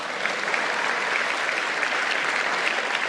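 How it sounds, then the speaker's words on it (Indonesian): Steady, dense applause from a large audience at a political party congress in Indonesia, a continuous even wash of clapping heard close and loud without talk. "Tepuk tangan dulu dong."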